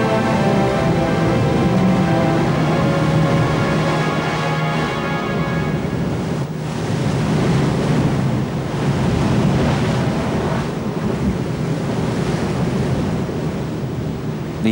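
Ocean waves at sea in the Malacca Straits, a loud, continuous wash of surf and water rushing against a moving ship, with heavy wind buffeting throughout and no voices.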